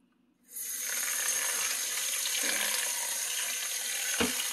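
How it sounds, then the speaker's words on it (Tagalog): Water pours steadily into a container of sprouting beans. It starts abruptly after a brief quiet moment and keeps up as a close, even splash until the end, with one small knock near the finish and no talking. "Lagyan ng tubig. Every day, basa-basain po."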